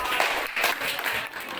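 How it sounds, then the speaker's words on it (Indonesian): Students in a high school classroom clap together in brief, moderately loud applause that lasts only a moment, with a little voice mixed in. "Tepuk tangan."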